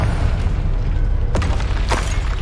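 Confringo fire blast spell explosion in Hogwarts Legacy, a dense rumbling boom bed punctuated by two sharp bursts partway through, fairly loud and unaccompanied by speech.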